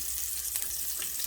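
Onions hit a hot pan and sizzle in a bright, dense hiss that stays steady and close, with a faint low rumble underneath and no voices.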